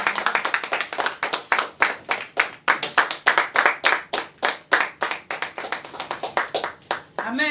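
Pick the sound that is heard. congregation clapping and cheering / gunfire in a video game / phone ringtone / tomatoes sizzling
congregation clapping and cheering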